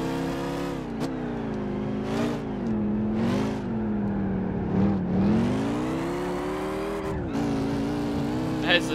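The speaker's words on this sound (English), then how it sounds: "Can hear and feel the car sliding." Race car in Gran Turismo 5 on the Cape Ring track, its engine droning and shifting pitch steadily under continuous commentary as the tyres slide, with brief revving surges and gear changes throughout.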